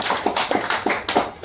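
A small group claps hands in a quick, even burst of about five or six sharp claps, close and fairly loud, in a classroom.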